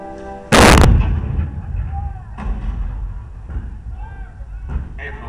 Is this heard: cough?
no